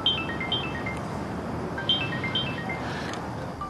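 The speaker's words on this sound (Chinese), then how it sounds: "李李，快接啊！" A mobile phone ringtone plays indoors as a repeating bright melodic phrase, moderately loud over a quiet room hum, cycling several times without anyone answering or speaking.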